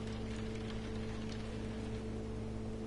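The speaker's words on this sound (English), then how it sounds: "the sounds of the rain and everything here" Rain in the No Man's Sky video game, a soft, even patter and hiss of rainfall over a low steady hum, faint and continuous with no talking.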